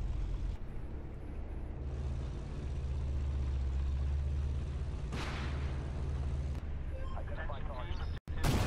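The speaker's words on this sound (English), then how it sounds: "We pull around the corner and plant a shot into him on the move." Tank cannon fire in the game Armored Warfare on PS4, a loud blast around the middle of a steady engine rumble, with someone talking over the game sounds.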